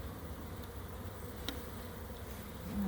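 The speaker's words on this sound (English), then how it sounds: "Lots of bees." Steady, dense buzzing of many honey bees close by at an open hive during queen release, continuous throughout with no talking.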